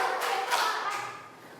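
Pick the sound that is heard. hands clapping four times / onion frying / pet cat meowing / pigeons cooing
hands clapping four times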